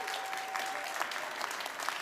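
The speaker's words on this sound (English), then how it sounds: "That applause was for Henrik" Conference audience at a data innovation summit applauding, a dense, steady patter of many hands clapping at moderate distance, continuous for about two seconds with no speech over it.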